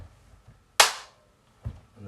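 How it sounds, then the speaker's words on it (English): One sharp hand clap in front of the face snaps out cleanly against near silence, decaying quickly, followed by a faint softer knock. "you do one single clap in front of your face"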